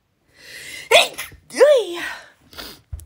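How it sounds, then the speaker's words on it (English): A single loud, strained sneeze with a wavering, vocal quality, close to the listener, preceded by a sharp intake of breath and followed by a short exhale. "I'm going to sneeze in a minute"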